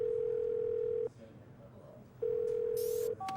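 A phone call being placed in the Harvey Birdman: Attorney at Law video game: a loud, steady dial tone sounds for about a second, pauses, resumes, then gives way to a short higher tone, with no talking.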